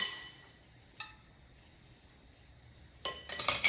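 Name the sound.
dishes being moved out of the way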